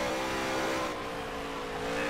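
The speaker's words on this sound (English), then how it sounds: "we're pretty much revving out there at the end of the straightaway" Dirt late model race car engine in NASCAR Heat 3, held at a steady high-rpm drone with layered harmonics while running on a road course, loud and continuous with no talk.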